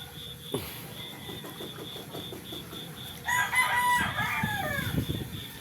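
A fighting cock crows loudly and close, one long drawn-out cock-a-doodle-doo following a stretch of soft clucking and scratchy background noise with a faint repeating beep.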